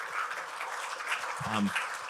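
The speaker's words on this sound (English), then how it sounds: "So a round of applause." Brief audience applause at a low-code conference session, moderate clapping from a seated crowd lasting a couple of seconds, with a low voice briefly over it.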